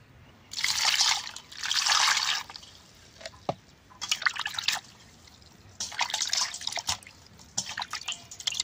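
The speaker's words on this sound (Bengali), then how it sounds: "তরমুজটা আমি কাইটা নেবো ধুয়ে।" Water pours and splashes in bursts over a cut watermelon being washed in a village kitchen, with quieter trickles and drips between the louder rinses.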